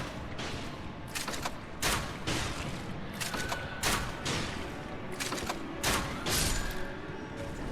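Video game gunfire cracks out in several sharp, loud bursts at irregular intervals while shooting an enemy, each shot a short, hard percussive snap over a background of steady game noise.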